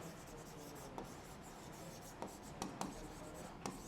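A marker or chalk writes on a classroom board in short scratchy strokes, with a handful of faint taps, quiet and close with a low hum behind.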